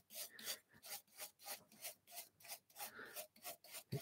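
Hand brush scrubbing across a wood surface during hand-plane screwdriver making, about a dozen quick rhythmic rasping strokes, close and fairly quiet with no talk.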